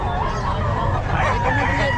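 A rooster crows at a busy pet market, its call rising over dense crowd noise and low rumble, with voices talking throughout.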